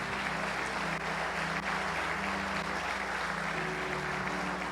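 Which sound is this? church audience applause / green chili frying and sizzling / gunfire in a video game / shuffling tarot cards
church audience applause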